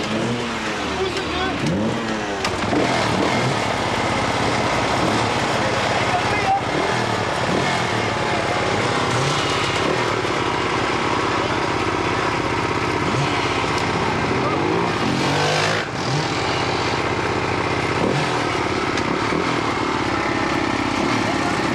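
A 1994 classic rally motorcycle engine starts and runs, revving and idling loudly and continuously, with people talking nearby over the engine.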